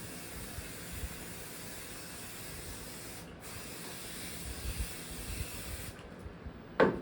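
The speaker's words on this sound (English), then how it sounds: "Then we take our basting spray, spray the top and the backing." A can of basting spray hisses steadily onto quilt fabric, spraying continuously for several seconds, close and even, then cutting off abruptly near the end.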